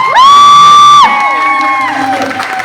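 A loud, sustained shout from a contestant in a shouting contest rings out with strong pitch, then fades into lower crowd voices and murmur.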